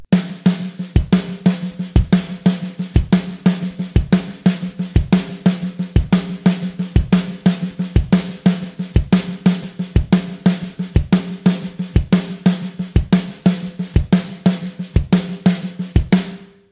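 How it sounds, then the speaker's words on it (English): A snare drum plays a slow sextuplet pattern, with loud accented right-hand strokes alternating with quiet left-hand ghost notes, set against a steady underlying pulse in an even, repeating rhythm. "So let's take this pattern real quick and play it on the snare drum at a slow tempo"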